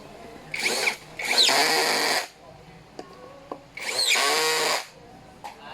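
A power drill drives screws while a black mesh office chair is assembled, giving two nearby bursts of whirring with a pause and light handling clicks between them.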